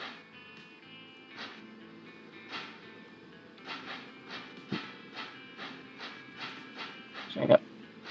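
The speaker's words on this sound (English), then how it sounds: "And we now have the first passenger train on." Passenger train rolling along in the railway game Transport Fever 2, a quiet rhythmic series of clacks and puffs repeating roughly every half second over a low running hum, with one sharper clunk near the end.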